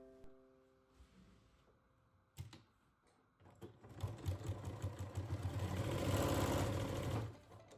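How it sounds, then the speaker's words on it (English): Sewing machine running a 1/4 inch seam on fabric for a beginner iPad holder or book sleeve pouch, a brief start then a steady, rising whir of stitching for several seconds that stops abruptly. "we're gonna sew 1/4 inch seam allowance all the"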